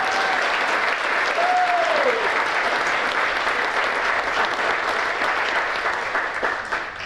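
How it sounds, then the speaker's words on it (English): An audience claps at a chamber of commerce awards gala, a continuous wash of applause filling the room with a brief whistle-like tone near the start. "So let's give him a round of applause."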